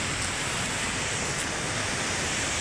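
Steady rushing water of a stream close to the Dhiplung waterfall in Khotang, a dense continuous broadband roar with no voices.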